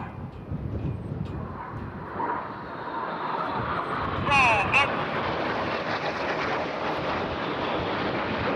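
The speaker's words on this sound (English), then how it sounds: "And they're looking to pass each other within only 30 metres, that's 100 feet from wingtip to wingtip, as they perform the Hannah pass" Red Arrows jets in a close crossing pass at the Eastbourne International Airshow, a steady loud roar of jet engines that swells briefly mid-pass, with commentary heard over it.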